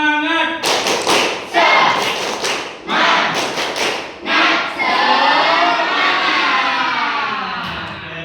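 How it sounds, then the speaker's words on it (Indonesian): A classroom of children doing a spirit clap, loud bursts of clapping in a patterned rhythm broken by short pauses and chanted voices, ending in a long sustained group cheer. "Tepuk semangat"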